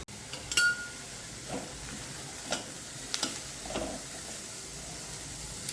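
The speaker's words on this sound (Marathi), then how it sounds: "कांदा चांगला भाजून घेते." Onion fries in a kadhai, giving a faint, steady sizzle. A few soft clinks and scrapes of stirring break through, with a sharper utensil tap near the start.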